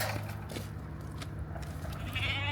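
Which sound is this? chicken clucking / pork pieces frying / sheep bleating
sheep bleating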